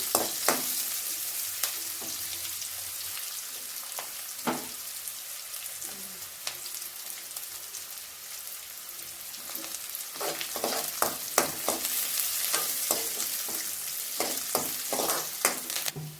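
Onions and garlic fry in a pan for palak rice while being stirred, a steady hissing sizzle broken by scraping spoon strokes and clinks, close and continuous with no talk.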